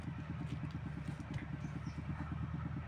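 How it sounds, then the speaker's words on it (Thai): A walking tractor's engine chugs steadily and evenly nearby in a rural setting, a low, continuous rhythmic putter that stays constant throughout at moderate volume with no talk over it. "โอ้เสียงรถไถ"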